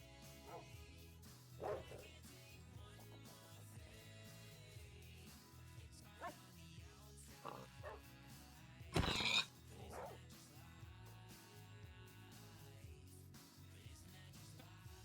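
Puppies in a video game: faint, scattered yips and short barks spread over the span, one louder burst midway, set against a quiet game background.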